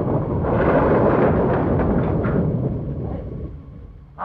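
Thunder rumbling during a storm, a loud, broad roll that swells at the start and slowly fades over several seconds. A short burst of sound comes at the very end.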